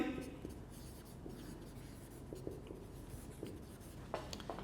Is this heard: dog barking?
no